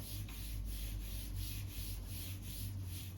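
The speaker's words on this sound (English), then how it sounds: "I'm almost done finishing up cleaning the table" Wiping and cleaning of a table in a hospital room, a steady close rubbing and scrubbing texture repeating in regular strokes, continuous and fairly quiet against a low steady hum.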